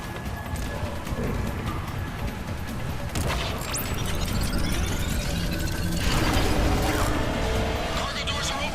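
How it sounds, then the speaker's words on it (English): Heavy mechanical whirring, clanking and creaking as cargo doors open in Mass Effect Legendary Edition, a dense, continuous machine din that swells toward the end, with a brief voice mixed in. "Cargo doors are opening, Commander."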